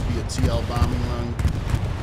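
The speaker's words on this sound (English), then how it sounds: "TL bombing run." Bombing run explosions in the World War II shooter Hell Let Loose during a friendly match, loud overlapping deep booms and rumbling blasts in quick succession, with voices talking over them.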